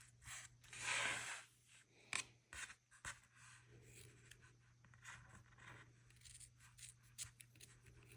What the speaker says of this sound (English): these scissors are really good for cutting little pieces of yarn